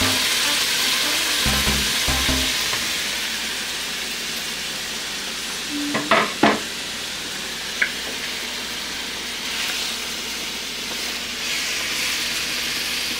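Beef steak frying in a pan on low heat, a steady hiss of sizzling throughout, with a few brief metallic scrapes and clinks of a spatula spreading the meat midway.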